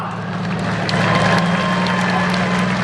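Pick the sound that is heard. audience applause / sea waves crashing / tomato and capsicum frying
audience applause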